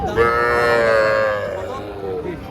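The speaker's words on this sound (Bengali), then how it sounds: "এই যে দেখেন কত ছোট বাছুর" A very small female calf at a cattle market, Sahiwal or local breed, lets out one long, loud, close moo that slowly falls in pitch before fading.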